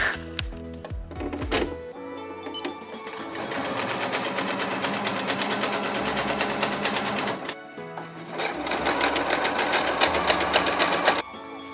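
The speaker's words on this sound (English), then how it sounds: "So now I'm just gonna sew these parts." A sewing machine runs a hem in two long continuous bursts of rapid mechanical stitching, close and fairly loud, with handling clicks at the start and a brief pause between runs.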